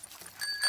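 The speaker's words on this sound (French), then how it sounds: "Papa Pig va faire du vélo sur la bicyclette de Peppa." A child's bicycle in a French Peppa Pig cartoon is ridden by an adult pig, giving a short, light whirring and ticking with faint metallic pings, close and fairly quiet, with no talk over it.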